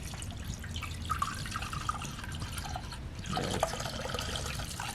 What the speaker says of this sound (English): We're gonna just pour the seafoam directly into here, and then close it up, shake it about, and then completely drain it.